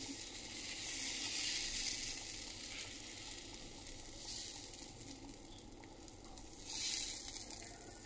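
Pesarattu, a thin moong dal dosa, sizzles on a pan without oil, giving a continuous close hiss that swells and fades a few times.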